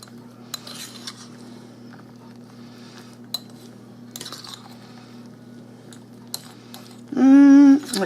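Cookies and drained fruit are stirred in a bowl for a no-bake dessert, with light, scattered clinks and scrapes of a utensil against the dish, then a brief louder burst near the end.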